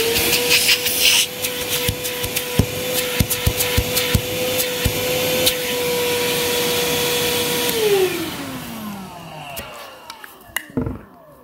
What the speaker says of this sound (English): So you can use it as a regular vacuum.